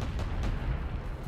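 A sniper weapon firing in the vehicle combat game Crossout produces a heavy, rumbling boom that fills the short moment, loud and close, with no talk.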